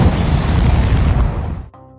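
A sea mine explodes in a loud, close, roaring blast that rumbles for about a second and a half before cutting off abruptly, leaving a faint tonal hum.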